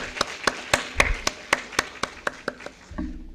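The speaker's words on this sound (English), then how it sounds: "Can we have a big round of applause" A sparse clapping of roughly a dozen separate claps comes at a steady, slightly uneven pace during an International Women's Day award ceremony, fairly faint and ending in a low murmur.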